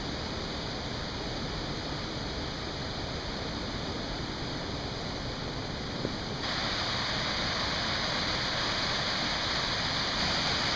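Little Zig Zag Falls on Mt. Hood roaring at close range, a loud unbroken rush of falling water that swells slightly louder partway through, with no voices.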